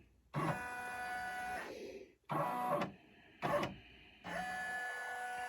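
Embroidery machine stitching a towel, running in four separate bursts of tonal whirring hum, the first long, then two shorter runs and a final one, with quiet gaps between them.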